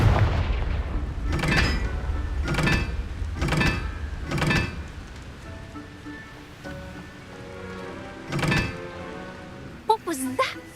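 Repeated Confringo fire spells blasting in Hogwarts Legacy: a string of loud, evenly spaced explosive bursts, followed by a quieter stretch of rumbling and crackling and a final burst of sharp impacts.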